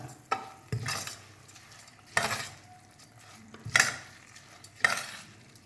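Small-grain rice being stirred slowly with water in a cooking pot for kushka, a spoon scraping and knocking against the metal in several separate strokes, close and clear, with no voices.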